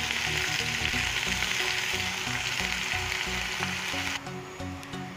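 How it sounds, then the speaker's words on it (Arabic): Onion frying in oil in a pan, a steady loud sizzle that runs unbroken throughout and eases slightly near the end. "نحطو شوية تاع الزيت في المقلة تاعنا، نديرو فيها شوية تاع البصل"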